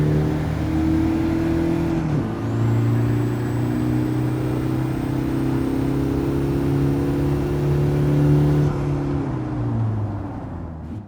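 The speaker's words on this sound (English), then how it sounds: "it has you driving a 2015 Mazda Demio XD Touring" A 2015 Mazda Demio XD Touring engine hums steadily in a video game driving test, a sustained drone that dips briefly as the revs shift, then holds loud and even before easing off at the end.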